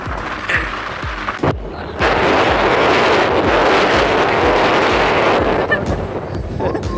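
Strong wind on the Kunnumpidari hilltop in Palakkad buffets the microphone in a loud, roaring rush, with thumping gusts early on and then a sustained, heavy blast that runs for several seconds before easing slightly.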